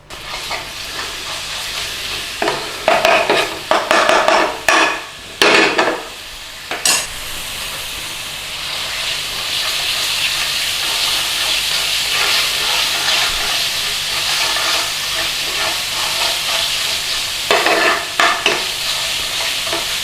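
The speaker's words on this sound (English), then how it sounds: "Nice and steady, we don't want to burn this garlic and ginger." Garlic and ginger sizzle steadily in hot oil in a pan for a British Indian restaurant-style chicken tikka bhuna, with bursts of stirring and scraping early on, then a continuous close, even frying hiss.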